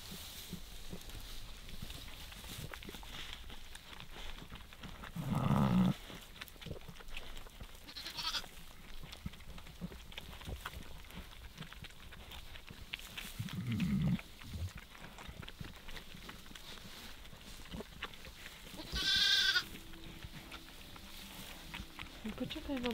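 Goats bleating in a calm flock of goats and sheep during a sheep's lambing on a farm, a few short bleats at intervals over steady barn background, some nearby and one higher call near the end.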